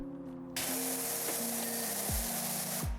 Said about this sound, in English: the sounds of my power washer spraying aggressively on walls